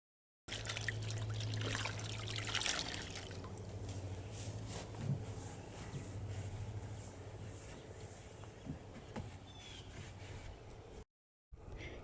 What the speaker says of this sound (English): Now I'm going to go through with my fresh clean water there, rinse everything off